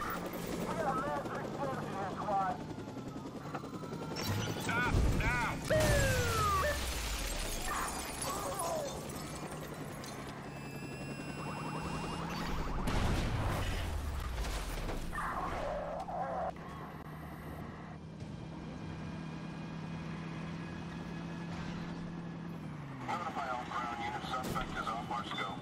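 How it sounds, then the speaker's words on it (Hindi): A police helicopter flies overhead in the video game Watch Dogs: a rotor and engine drone runs throughout, with car noise, crashes and glass shattering layered in, and someone talks over the action. "हेलीकॉप्टर वाले का बहुत ज़्यादा बेनिफिट है, ये तो मतलब कहीं से भी आ सकता है।"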